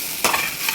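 Prawns frying with salt and turmeric in hot mustard oil in a pan, giving a close, steady sizzle with a brief louder crackle burst, no talking.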